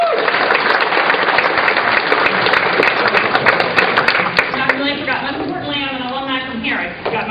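A seated audience applauds warmly to welcome a guest speaker, Ms. Tate, at a lecture on US space policy; steady dense clapping fills the room throughout, with a voice briefly audible toward the end.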